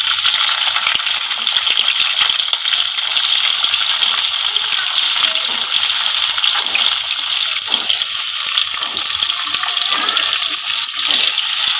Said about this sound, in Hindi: लहसुन का फ्लेवर आ गया ऑयल में, अब इसमें जाएगी प्याज।